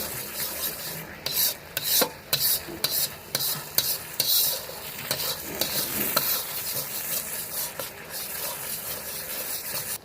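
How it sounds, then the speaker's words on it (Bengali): Curry masala paste made with cashew and melon-seed paste is stirred in a pan over low to medium heat, giving repeated close scraping strokes over a gentle sizzle. "লো টু মিডিয়ামে দিয়ে আমাদের এটাকে ভালো করে নাড়াচাড়া করে নিতে হবে।"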